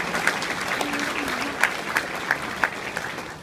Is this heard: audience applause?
yes